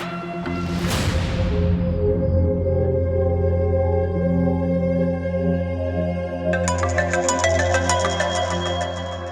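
A phone ringtone plays loud and close, a sustained melodic electronic tune with a bright swept chime at the start and layered tones that thicken near the end, with no talking.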